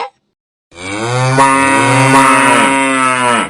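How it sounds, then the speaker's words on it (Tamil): A single loud cow moo, long and drawn out, rising and falling in pitch after a brief silence, close by and alone. "மாடு கத்துது"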